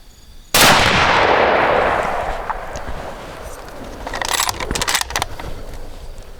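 A single loud hunting-rifle shot on a Zimbabwe dangerous-game safari cracks out after a moment of quiet and rolls away in a long, fading outdoor echo, followed by faint clicks and rustling as the rifle is handled.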